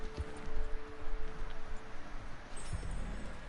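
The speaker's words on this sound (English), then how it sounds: "It's horses, dude." Horse hooves clip-clop at a steady walking pace in Red Dead Redemption 2 Online, a moderately loud run of soft thuds over a busy, noisy game background.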